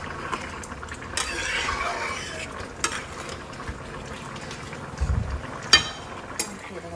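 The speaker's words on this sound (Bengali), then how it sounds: "নাড়াচাড়া করে দিই" Food being stirred as it fries in a pan while cooking khuder bhaat, soft sizzling under scattered scraping and knocking of a utensil, with a few sharp clanks and a low thump partway through.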